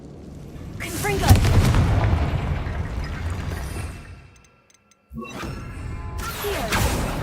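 Hogwarts Legacy's Confringo fire spell lets off heavy booming blasts in a game fight, with a loud burst, a fade into near silence, then another explosive hit, under scattered talk.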